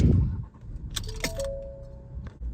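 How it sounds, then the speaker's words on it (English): Keys jangle and clink as they are inserted into the ignition of a 2020 Ford EcoSport S, a brief metallic rattle with a light chime-like ring, close by inside the cabin. "To start it, just put the keys in."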